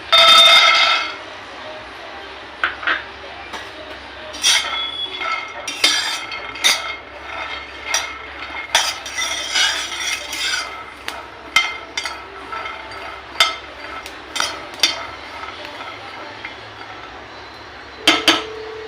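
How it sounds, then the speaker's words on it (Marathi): Peanuts roast in a dry pan, rattling and clinking against the metal in quick, uneven bursts as they are tossed and stirred, loud and close with quieter stretches between. "आपण शेंगदाणे भाजून घेऊया"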